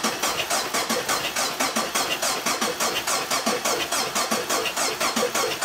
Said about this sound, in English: I've disabled the spark and fuel, so we're gonna crank this right now and just watch these rocker arms